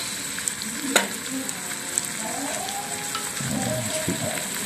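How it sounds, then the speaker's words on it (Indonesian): Fermented tempeh is stirred into sautéed spices in a hot pan, a steady close sizzle with scraping and stirring clatter over the frying. "Nanti siap-siap tempe bosoknya dicampur dengan bumbu yang sudah ditumis,"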